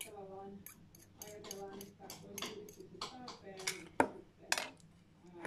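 Blueberry pie filling stirred in a bowl that is too small, giving scattered utensil clinks and scrapes, with a couple of sharper knocks, under ongoing talk.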